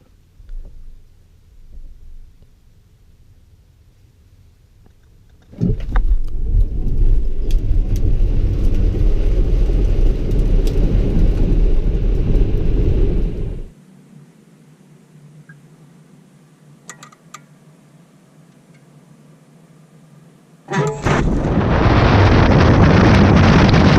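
A Tesla Model S Raven launching under launch control: a loud, steady surge of whining motor and rushing road and wind noise lasts about eight seconds, drops to a quiet hum, then a second loud burst of acceleration starts near the end.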